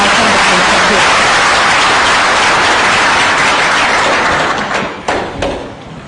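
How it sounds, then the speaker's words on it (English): Loud, dense audience applause welcoming panel speakers at the opening of a conference in Kenya, a sustained wash of many hands clapping that tapers off near the end with a few thuds. "Please, let's give them a warm round of applause as we begin our conversation."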